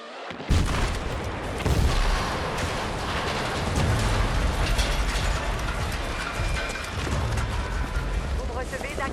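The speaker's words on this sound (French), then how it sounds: "Paré pour l'explosion." Heavy explosive blasts and rumbling battle noise from a Battlefield 6 campaign mission as a drone operator, a loud dense roar of booms and mechanical clatter that holds steady for the whole stretch.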